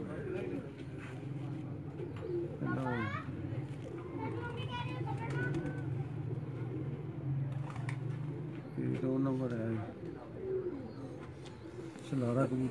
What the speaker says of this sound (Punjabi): ਅੱਛਾ ਗੋਲਡਨ ਕਬੂਤਰ ਜੀ